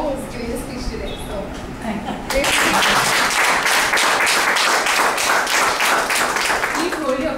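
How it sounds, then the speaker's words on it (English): Applause at an IBM Group Expression Toastmasters Club meeting, after a moment of quieter room sound with voices. Dense, steady clapping from a roomful of people bursts in and carries on loud and even to the end. "Please hold your applause till all the others have finished."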